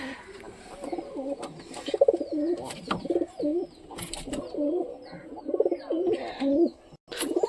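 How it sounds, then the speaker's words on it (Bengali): Pigeons coo near their coop in a steady run of soft, throaty, rolling calls from several birds, with a few brief chirps and rustles between them and no talk. "তো খোপের থেকে সব কবুতরগুলো ধীরে ধীরে বেরোক, তারপরে খেতে দেবো"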